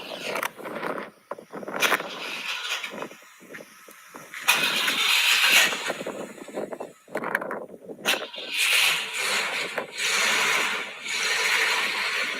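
A 1959 Cadillac Eldorado Brougham is heard with its engine starting and running, a loud, steady mechanical sound with varying intensity and no talking.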